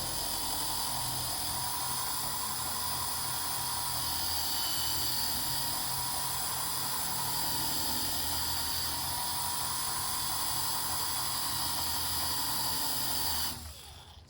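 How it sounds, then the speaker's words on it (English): Rupes Nano long neck polisher running steadily on its lowest setting, a constant high-pitched whine with a low motor hum, unbroken for many seconds before a brief shift at the end. "We're gonna turn this all the way on the lowest setting just to play with it"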